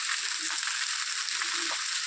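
Pumpkin and eggplant fry in a hot wok with a steady, dense sizzle and crackle that holds at an even loudness from start to finish.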